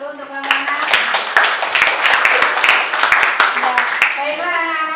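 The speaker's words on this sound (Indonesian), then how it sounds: "Kita kasih aplaus dulu untuk anak-anak." Classroom applause for the students: many hands clapping together in a loud, steady burst lasting several seconds, with a voice audible at the start and end.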